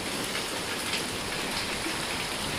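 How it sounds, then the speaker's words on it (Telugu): Heavy rain pours steadily onto an open terrace, a dense continuous hiss of drops hitting the surface, close and loud throughout with no voices. "ఇక్కడైతే మీరు చూడొచ్చు, వాన చాలా హారబుల్గా పడుతుంది."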